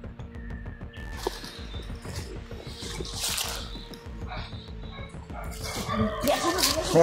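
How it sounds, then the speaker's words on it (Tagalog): A dog barks in repeated sharp yips amid rustling and movement outdoors, the barks irregular and moderately close, with some brief whimpering sounds and background noise. "May aso."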